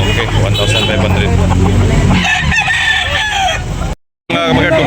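A rooster crows amid a busy chicken market where birds are being sold, the call rising loud and near over steady crowd noise, clucking fowl and passing vehicles, while someone talks throughout.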